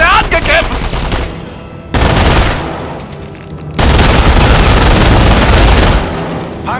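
Machine gun fire in the Company of Heroes strategy game rattles in dense, loud bursts with booming impacts, separated by short gaps, and game voices call out in German over the battle.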